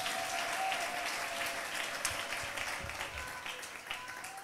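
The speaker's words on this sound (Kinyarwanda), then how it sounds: "Reka dukomere Imana yacu amashyi." A church congregation claps steadily in a dense wash of applause, quite distant and slowly fading over the few seconds.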